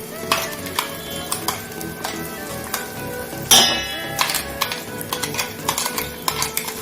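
Ground coconut paste goes into softened tomatoes in a pan, with a loud plop and burst of sizzle, then repeated close scraping and clinking of a spoon stirring against metal over a soft frying hiss.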